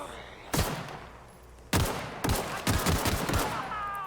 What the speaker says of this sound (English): Now if you shoot the barrels,